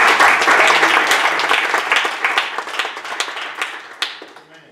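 A church congregation at a New Year's Eve watch night service at NAF Atsugi claps loudly and densely. The applause gradually thins into scattered individual claps and dies away.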